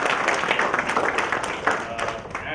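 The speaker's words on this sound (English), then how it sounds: "big round of applause to Thane HRD" Audience applause at a Thane HR Group labour-law event, a steady dense wash of many hands clapping throughout a filled hall, fairly close and continuous with small peaks.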